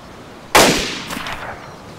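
A single loud gunshot in the survival game DayZ, a sharp close crack with a short echoing tail, followed by a quieter second report.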